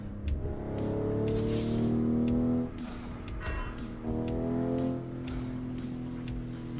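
Simulated car engine in Assetto Corsa on the Shutoku Revival Project map, revving steadily with rising and falling pitch through gear changes, loud and continuous, with a brief dip in the middle before climbing again.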